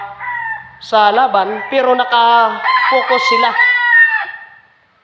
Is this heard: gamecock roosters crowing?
yes